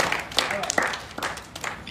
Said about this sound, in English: Clap now, clap.